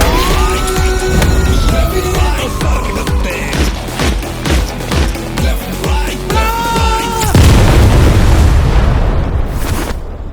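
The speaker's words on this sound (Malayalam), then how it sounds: "ആ സൈറൺ ഇടാ." A vehicle siren wails with a rising and falling tone over a loud, dramatic film-trailer score with heavy booming hits.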